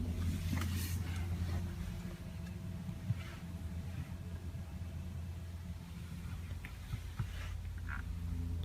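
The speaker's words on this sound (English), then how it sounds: "start it up and see how it sounds." Audi A7 Prestige S Line or Mercedes-Benz CLS400 luxury car, its engine running with a steady low idle rumble close by, with faint clicks and small bumps throughout.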